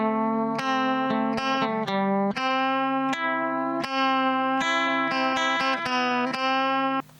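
A melodic single-note line on electric guitar runs through a modeling amp set to a warbly, lo-fi slow chorus tone. Notes are plucked in an uneven phrase, each one wavering and ringing into the next, close and alone.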